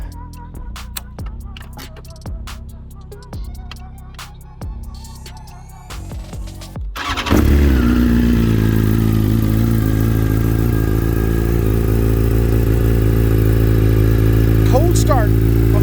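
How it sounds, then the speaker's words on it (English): A BMW M 1000 RR superbike with a Bryn tuning ECU flash cold-starts with a loud mechanical crank and catch, then settles into a loud, steady, rumbling idle close by, after some earlier ticking clatter. "Start of the M1000 RR with this Bryn tuning ECU flash sounds really nice. Starts up on the first try."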